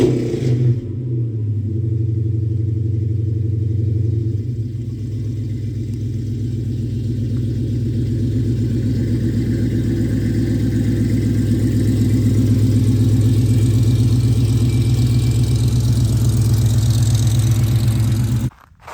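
A Dodge Charger's engine idles steadily for a long stretch, a close, low, even rumble with a slight rise early on, then cuts off abruptly at the end.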